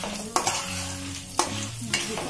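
Chana dal and asafoetida fry in oil with a soft continuous sizzle, while three sharp utensil scrapes or knocks land at irregular intervals, close up.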